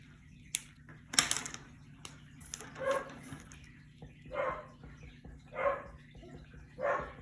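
A dog barks in short bursts every second or so indoors, moderately distant and fairly quiet, with a few knocks and clatters between the barks.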